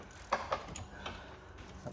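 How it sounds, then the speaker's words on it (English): A 13 mm ratchet wrench turns a bolt on the transmission output shaft of a Can-Am Outlander 650 XT ATV, giving a few quick, faint clicking ticks over a low background hum. "I'm using a 13 mil ratchet wrench"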